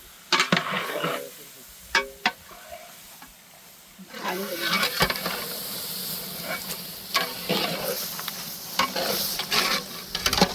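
Chicken drops into hot frying masala in a pot for Nagarjuna chicken biryani, with a burst of loud sizzling and hissing, scraping stirs and clinks of a spoon against the pot.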